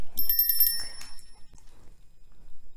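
Small bell on a KiwiCo Eureka Crate gravity timer rings: a bright, rapid metallic trill lasting about a second, ringing out and decaying, then quiet rustling.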